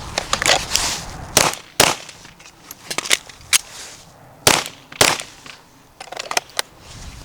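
Pistol gunshots fired as quick double taps during shooting practice, sharp loud cracks in pairs and singles spread across the span with short gaps, no talking.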